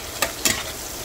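Sliced onions sizzle in hot oil in a pan, with two quick scraping stirs early on over a steady frying hiss.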